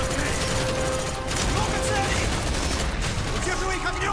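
Sustained gunfire in the video game Call of Duty Black Ops, a continuous loud barrage of overlapping shots and rattling automatic fire with chaotic battle noise throughout.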